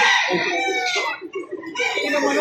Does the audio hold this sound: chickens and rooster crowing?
yes